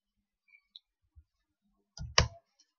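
A few scattered, faint clicks of computer keyboard keys, then a sharper cluster of louder key taps near the end, in an otherwise quiet room.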